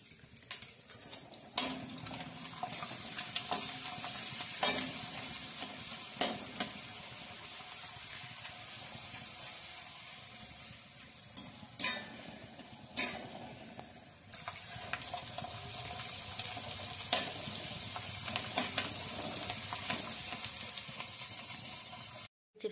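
Homemade potato chips frying in hot oil, a steady close hiss and sizzle running throughout, punctuated by sharp clinks and scrapes of a utensil stirring in the pan.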